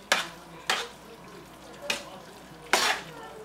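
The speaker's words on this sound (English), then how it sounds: "We're going to give that a nice stir." A spoon or spatula stirs shrimp alfredo sauce with noodles in a pan, making four scraping, clattering strokes over a soft sizzle, close and fairly quiet.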